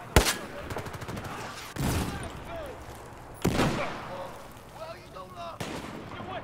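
Sharp rifle reports crack out in Battlefield 4, about four spaced shots over several seconds, loud and close with echoing tails, while a player speaks between them.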